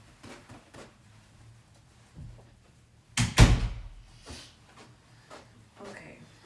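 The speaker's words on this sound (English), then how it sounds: "Let me close this door." A door is pushed shut indoors with one loud, heavy thud partway through, briefly rising above faint room noise and soft speech.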